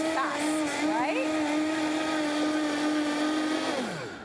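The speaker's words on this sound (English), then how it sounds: "it's just 3 cups of oats, and you just turn on your blender" A kitchen blender grinds three cups of oats into flour with a loud, steady whir that holds evenly, then spins down at the end.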